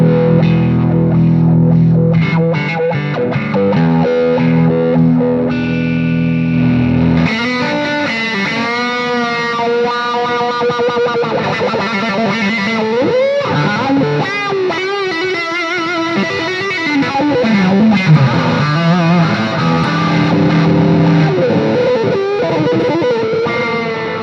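Electric guitar through a fuzz pedal followed by a buffer, thick sustained fuzzy chords that give way to a busy, biting distorted lead line, loud and continuous for the whole stretch with no talking.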